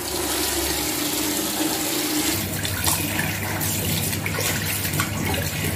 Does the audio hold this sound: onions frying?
no